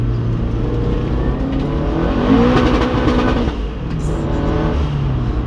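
A drift car's engine revs hard and loud at a Santa Pod drift day, a sustained close-up roar that rises and falls without any talking.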